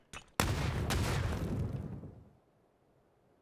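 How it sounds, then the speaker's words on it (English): A grenade goes off in a video game as a sharp, loud blast after a short click, followed by a rumbling roar with a second crack that fades out over about two seconds. "What a nade from Tanoi"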